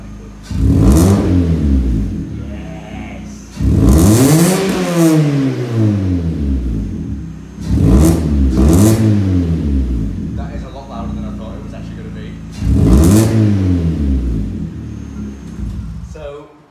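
A Vauxhall Astra H 1.6 with a Sportex cat-back exhaust is revved four times in a row. Each rev swells into a deep, throaty roar and then falls back to idle, loud and close, with brief speech in the pauses.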